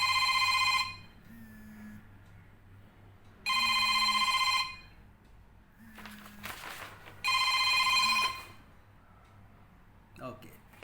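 A telephone rings during a spoken lecture in three loud, evenly spaced electronic bursts with quiet gaps between them, and a voice speaks faintly in the pauses.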